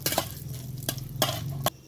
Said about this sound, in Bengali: কাজু বাদামটা একটু ভেজে নেব।